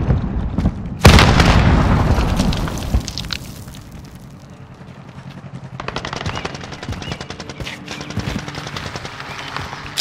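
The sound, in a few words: grenade explosion in Call of Duty Modern Warfare video game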